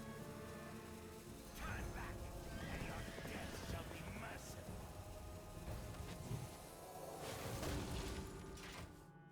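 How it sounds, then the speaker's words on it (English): A horse neighs and hooves clop amid dense, layered card game sound effects and a voice talking, all at a steady loud level. "Horse."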